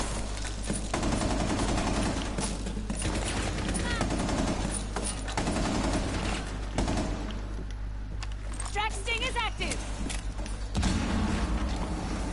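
Gunfire in Rainbow Six Siege comes in repeated bursts over a steady game soundscape, with mechanical clanks in between and someone talking across much of it.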